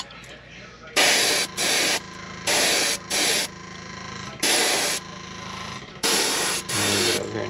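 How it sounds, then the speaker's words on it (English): Bursts of hissing spray from an airbrush painting fishing baits come in short repeated blasts, about seven, each lasting under a second, close and loud over a low background hum. "We're going to spray both of these baits."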